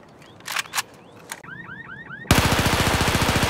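AEK rifle in Battlefield 2042: scattered distant shots and chirping effects give way to a loud, rapid burst of automatic fire sustained over the final second, each round a sharp, evenly spaced crack.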